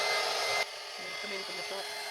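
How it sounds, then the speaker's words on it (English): A hair dryer blows loud and close onto acrylic paint in a broad steady roar, then drops to a lower setting and keeps rushing while a voice speaks softly over it. "I'm going to use this hair dryer"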